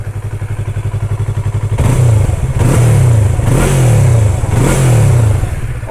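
Yamaha YZF R3 2020 motorcycle idling with a steady pulsing thrum, then blipped through four sharp revs that rise and fall close by, with no talking.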